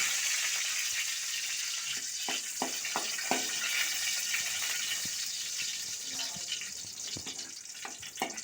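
Cashew nuts fry in hot oil in a pan, a faint steady sizzle with scattered crackles and pops, close and soft without talk.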